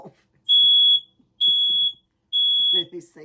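A kitchen smoke alarm shrieks three times in long, piercing high beeps evenly spaced about a second apart, loud and close, with a person's voice murmuring softly between and after the beeps.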